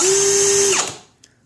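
A Milwaukee M18 FUEL ONE-KEY hammer drill, model 2706-20, set to a short ramp-up, whines up to full speed almost at once. It runs close and loud for under a second, then winds down quickly, with a small click after.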